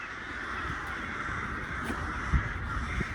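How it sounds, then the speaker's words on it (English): Crows caw repeatedly outdoors, harsh calls fairly close over steady background noise, with a sharper louder caw near the end. "Can you hear these crows, by the way? They are super scary."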